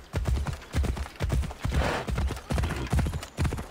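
A horse's hooves clip-clop in Assassin's Creed Odyssey, a steady rhythmic run of close, loud hoof strikes with no voices over them.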